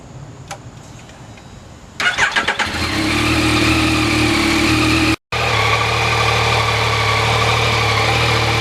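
A Yamaha MT-09 motorcycle engine starting up: a brief cranking burst, then a loud, close, steady idle that holds with a momentary cut-out midway before resuming.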